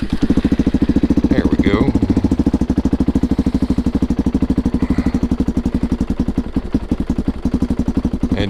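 A motorcycle engine, started by push button, runs at a steady idle with a rapid, even, close-up thumping beat, and someone briefly speaks over it.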